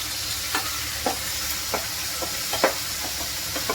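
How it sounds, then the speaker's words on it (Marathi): Tomatoes and ginger-garlic paste stirred in a hot pan, a constant sizzle beneath light spoon scrapes and taps recurring every half second or so, close up, no speech. "मिक्स करून घेऊया"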